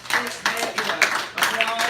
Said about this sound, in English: give both teams their applause